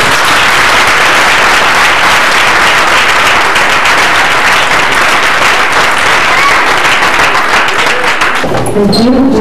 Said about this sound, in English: I'd like to give the youth another round of applause